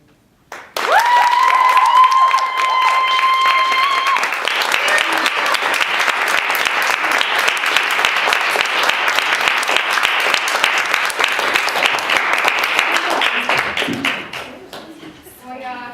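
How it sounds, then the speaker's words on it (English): Audience applause after music performances at a bardic revelry event: loud, dense clapping rises over the final sung notes and holds steady for about thirteen seconds before thinning out near the end. "Give them another round of applause."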